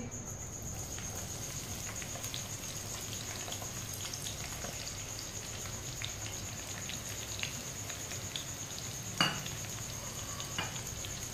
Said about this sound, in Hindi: ऑयल को मैंने गर्म कर लिया। कटी हुई तोरी डाल लेंगे।